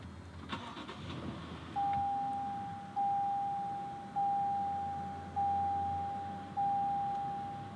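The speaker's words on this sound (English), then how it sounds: "Starting it up, as long as you have the key inside the vehicle, you just hold the brake and push this button right here." A Toyota Tundra 1794 CrewMax starts by push button with a brief crank and catch, then settles into a quiet idle as an electronic chime repeats in regular, evenly spaced tones.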